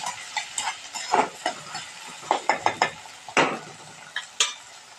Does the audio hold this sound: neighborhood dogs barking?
no